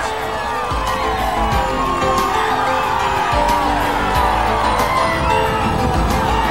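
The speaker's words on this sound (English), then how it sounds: "Lance soaks in the applause of the throngs of fans" Throngs of fans along the parkway cheer and whoop at a 1993 Triple Crown pro bike race, a dense, continuous roar of crowd noise with scattered yells and some talk mixed in.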